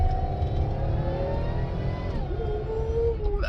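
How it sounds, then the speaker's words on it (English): A 2000 Buick Regal GS with a stage two ZZP setup revs hard in a brief burnout, engine droning loud and close with a rising whine near the end. "Ooh, that was a little burnout right there."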